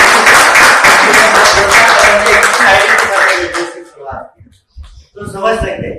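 Loud audience applause at a Highrich plan business presentation in Pune, dense clapping for about three and a half seconds before fading into scattered claps and brief talk.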